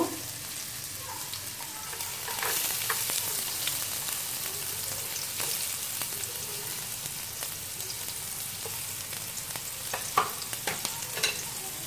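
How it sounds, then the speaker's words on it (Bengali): Chopped onions dropped into hot oil for a country-chicken papaya curry hiss and crackle in a steady, rain-like sizzle that swells after a couple of seconds, with occasional small pops and stirring scrapes. "এখন আমার তেল গরম হয়ে গেছে, এখন আমি এর মধ্যে পেঁয়াজ কুচি ছেড়ে দেব।"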